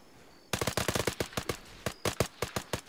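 Rapid gunfire in a video game, a loud burst of about twenty sharp shots in an uneven automatic rhythm with a short gap partway through, heard close and without talk.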